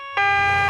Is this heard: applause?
no